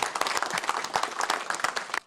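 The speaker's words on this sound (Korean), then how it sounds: "뜨거운 박수 한번 쳐주시기 바랍니다" Lawmakers clapping in the South Korean National Assembly, a warm round of dense, steady applause from a room of legislators that breaks off abruptly at the end.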